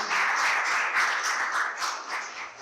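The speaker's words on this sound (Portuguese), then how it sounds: "Vamos aplaudir nosso Deus." A church congregation claps in steady, dense applause, with many hands close together throughout and no speech.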